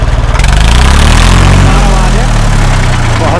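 Swaraj 855 tractor engine running outdoors: loud, close diesel chugging with a steady low throb that shifts pitch partway through as the engine changes speed, with a voice talking over it.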